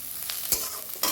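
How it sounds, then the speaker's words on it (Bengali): Chopped green chillies fry in a pan for an aloo paratha recipe. A steady hiss of sizzling oil continues throughout, and a few short scraping stirs stand out above it. "5 থেকে 6টা কাঁচা লঙ্কা আমি কুচি করে কেটে নিয়েছিলাম, সেটাকেও দিয়ে একটু ভেজে নেব"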